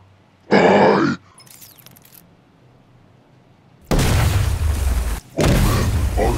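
Explosions in the video game Batman Arkham Knight, with a short harsh burst early on, then two long loud roaring blasts separated by a brief gap, close and overpowering.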